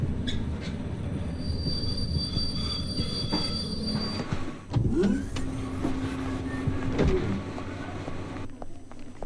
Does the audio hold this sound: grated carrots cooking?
no